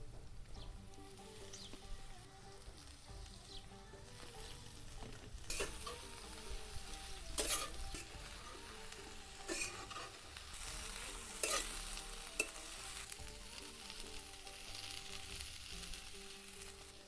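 Ghaturli, a wild leafy vegetable, sizzles and is stirred in a hot pan. The frying hiss runs steadily, with occasional spatula scrapes and sharper crackles, all close and unaccompanied by speech.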